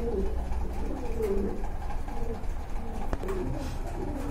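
Pigeons coo at a busy pigeon market, soft, throaty repeated coos near at hand over a steady background murmur.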